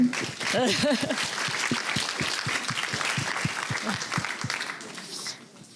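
Seminar audience applauding a colleague, a moderate spread of clapping heard fairly close, with a voice briefly speaking over the start before the clapping thins toward the end.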